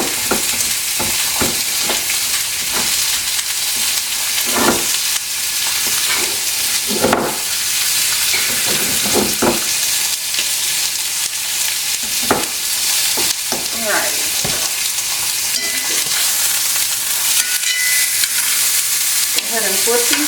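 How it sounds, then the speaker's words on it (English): Pork chops sizzle loudly in a pan with a steady hiss, broken by occasional sharp clinks and scrapes of a utensil nearby. "I'm going to let those cook on that side for another minute or so that they get nice and toasty brown."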